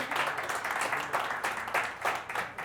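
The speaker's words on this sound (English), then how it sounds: "Can we get like a round of applause for that?" Scattered audience applause at a live-streamed arts fundraiser honoring an achievement award, a steady dense patter of many hands clapping for a few seconds at moderate distance, fairly soft overall.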